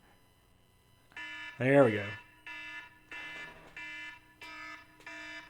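A cell phone alarm tone beeps in a repeating pattern of short electronic bursts, fairly faint, with one brief spoken remark partway through.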